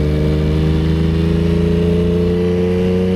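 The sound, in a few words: Yamaha XSR900 motorcycle engine revving during wheelie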